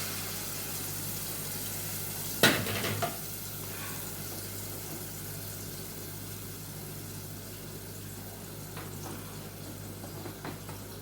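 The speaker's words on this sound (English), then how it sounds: "So I think the oil for the vegetable is ready. So just adding our vegetable to the mixture." Vegetables go into hot oil in a pan with a brief clatter and splash, then fry in a steady, even sizzling hiss close by.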